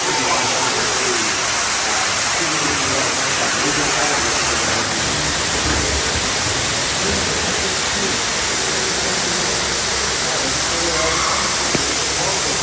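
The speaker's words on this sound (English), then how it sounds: "We're walking down a waterfall." A waterfall on a Chichen Itza tour in Yucatan roars as a loud, steady broadband rush of falling water that fills the whole stretch without letup, close and continuous.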